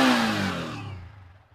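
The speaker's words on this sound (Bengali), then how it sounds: "ইঞ্জিনের সাউন্ড শুনে নাও" A motorcycle engine in a used-bike showroom near Kolkata revs once, loud and close at the start, then its pitch and level fall away over about a second and a half as the revs drop.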